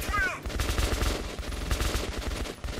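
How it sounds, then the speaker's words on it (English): Loud, rapid bursts of gunfire in the video game Metro 2033 as the player shoots an enemy, sustained almost throughout with a brief voice at the start. "I'm shooting him now"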